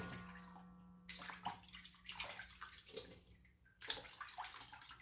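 Chicken feet being washed under a running tap, splashing and dripping water with shifting bursts as the deboned feet are turned and rinsed inside, fairly quiet and close.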